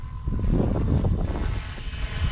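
A Blade 230 S RC helicopter's rotor and motor whir steadily at close range, a continuous buzzing drone with no voices.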